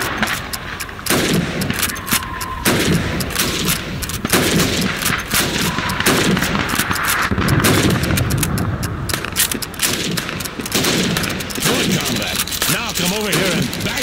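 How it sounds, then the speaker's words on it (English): Rapid rifle shots and gunfire crack loudly and repeatedly during timed helmet-shooting practice in Call of Duty 2's Red Army training, with booming reports dense throughout. "You have 15 seconds to shoot the helmets."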